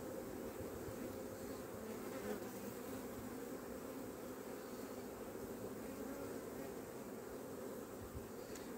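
Honeybees swarm and hum steadily around hives at a small apiary of seven hives, a dense, continuous buzz holding close and even throughout with no voices.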